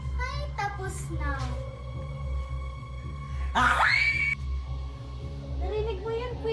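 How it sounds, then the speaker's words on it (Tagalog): A voice lets out a high, rising scream in an old house, loud and near, heard once mid-clip, with a voice talking before and after. "May sumisigaw."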